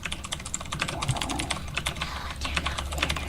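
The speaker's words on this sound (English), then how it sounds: "Did you buy a mechanical keyboard?" Rapid, close clatter of keystrokes on a Razer BlackWidow mechanical keyboard, steady and continuous with no voices, in the middle of a StarCraft 2 match.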